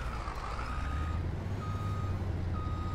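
Truck reversing beeps in the Farming Simulator 22 video game, a steady repeating electronic beep over a low engine rumble, moderately loud with no talking.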